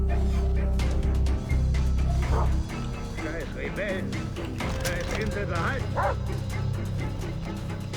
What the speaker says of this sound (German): Oh Scheiße. Haben die einen Köter?